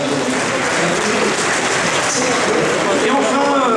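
An audience at an agricultural show applauds steadily and fairly close, a dense sustained clapping with some voices faintly mixed in.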